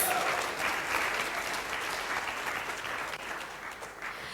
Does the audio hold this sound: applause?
yes